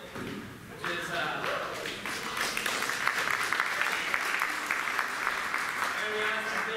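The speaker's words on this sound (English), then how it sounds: "that was kind of a golf clap" A church congregation applauds at a first-anniversary service, moderately loud clapping that swells after a second and holds steady, with a voice speaking over part of it.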